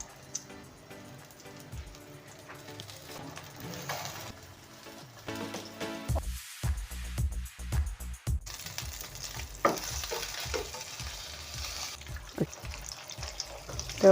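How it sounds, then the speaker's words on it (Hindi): Chicken shami kebabs fry in oil in a pan, with a steady sizzle throughout and intermittent scraping and clattering of a utensil, growing busier and louder toward the end; no talking. "ऑयल के अंदर इनको बहुत ही अच्छे से फ्राई कर लिया है"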